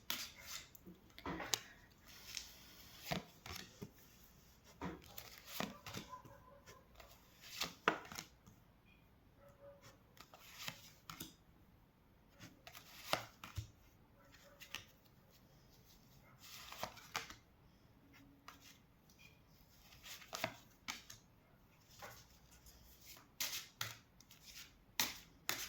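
Tarot cards are shuffled and drawn by hand in a series of crisp, close riffles, flicks and taps that come in irregular bursts with short pauses, quiet overall and with no talking.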